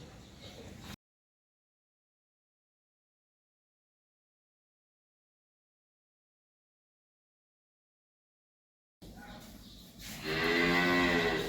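A Red Friesian heifer calf on a farm lowing in a long, close, tonal moo after a stretch of silence, preceded by a moment of outdoor farm ambience.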